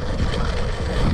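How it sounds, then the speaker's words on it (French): A short burst of loud, rumbling wind buffeting the microphone at an outdoor BMX race track, with no voices. "Bon, il y a quand même du vent."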